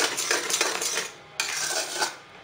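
A spoon scraping and clinking against a pan while stirring bubbling jaggery syrup for peanut chikki, continuous close metallic stirring with brief breaks.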